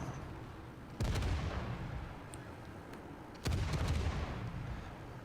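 Two heavy naval gun salvos from a ship in World of Warships, the Marblehead, each a loud booming blast followed by a long rumbling decay, spaced a couple of seconds apart.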